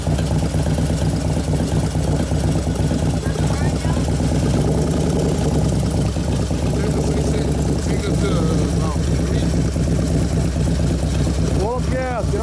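A 2011 Harley Road Glide twin cam engine runs loud and close under load, rumbling steadily throughout with occasional rising revs, while people talk over it.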